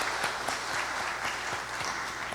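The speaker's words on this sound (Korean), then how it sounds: "박수로 환영해 주십시오." Audience in a university church clapping to welcome a visiting pastor, a brief burst of moderate applause from a room of people, steady scattered claps throughout.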